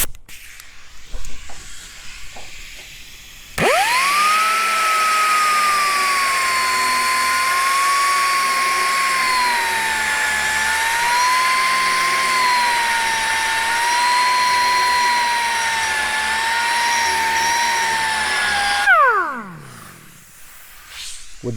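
An angle grinder fitted with a TFT milling disc opens up and bevels metal in a long, loud, steady cut, the high whine holding for about fifteen seconds before the tool winds down.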